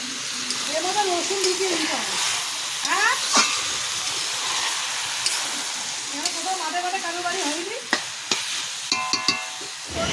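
Cabbage stir-frying in a pan gives a steady sizzle with scraping stirs, while a voice talks and hums over the cooking throughout.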